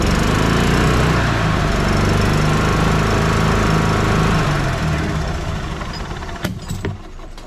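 A 1996 Club Car DS gas golf cart engine runs at a steady, loud, close drone with a rough pulsing beat, then fades slightly near the end as a few sharp knocks and clanks come through.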